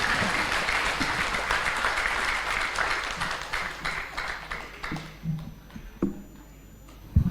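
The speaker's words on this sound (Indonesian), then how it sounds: "Tepuk tangan yang meriah untuk Ibu Titi Soeharto" An audience at a Partai Berkarya national coordination meeting applauds Ibu Titi Soeharto, a dense wash of many hands clapping that holds strong for several seconds, then thins out and fades to scattered claps.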